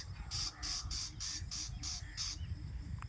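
A small bird chirps outdoors in the undergrowth of a cotton field, giving a steady series of about seven bright, evenly spaced calls over a constant low rumble of background noise.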